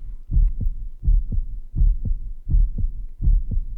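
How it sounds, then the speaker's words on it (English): A heartbeat sound effect in the video game Reverse: 1999: about five deep, thudding lub-dub double beats at a slow, even pace, close and heavy, with no other sound. "Yo, the heartbeat."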